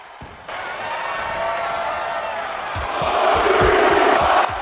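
A roaring arena crowd in WWE 2K25 cheers during a women's wrestling match as a pin attempt is kicked out, the noise swelling louder toward the end with a few sharp thuds beneath.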